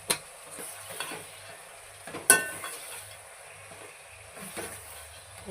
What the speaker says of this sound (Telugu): ఇక పసుపు ఎత్తాను, వెల్లుల్లి ముద్ద ఎత్తాను, ఇక జీలకర్ర మెంతుల పొడి ఎత్తాను. వేసి ఒకసారి కలపాలి.